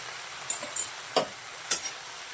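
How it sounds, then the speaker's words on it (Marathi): Fenugreek greens being turned in a wok with a long spatula make a few soft, brief scrapes spread over a couple of seconds against a quiet background, with no talking. "लांबक्या अशा उलटण्याने मी भाजी खालीवरी करून घेत आहे"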